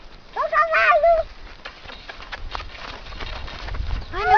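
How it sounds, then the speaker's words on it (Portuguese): Hooves of a horse jumping and running on a farm, soft irregular thuds at a moderate distance, with people talking over parts of it. "Olha lá que bonito o cavalo pulando."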